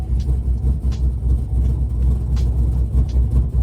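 Loud cammed Chevrolet Camaro ZL1 idling, with a deep, choppy, lumpy rumble pulsing steadily and close, no voices heard.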